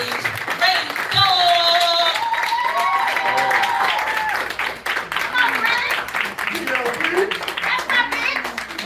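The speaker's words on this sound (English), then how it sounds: "So I want y'all to clap it up." Audience at a Soul Sister Birmingham poetry event clapping as a poet takes the stage, loud sustained applause from a crowd throughout, with voices and cheers mixed in.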